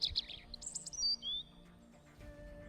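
A kite, the bird of prey, calls in a series of high, thin chirps and short whistled cries over the first second and a half, then fades into a quiet background hum.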